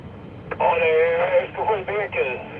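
Amateur radio chatter with southern Swedish voices talking over a narrow, tinny radio band, the speech coming in short bursts and pauses against a low background hum.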